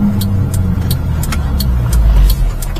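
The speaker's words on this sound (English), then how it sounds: "Minitruck running great." A mini-truck's small engine idles steadily up close, a constant low rumble with faint rhythmic ticking, loud and continuous without any talk.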